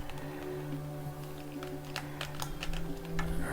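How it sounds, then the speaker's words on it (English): Front buttons on a modernized N64 controller being pressed: a series of small, sharp, close clicks in an irregular rhythm over a steady low electronic hum. "Front buttons are nice and clicky."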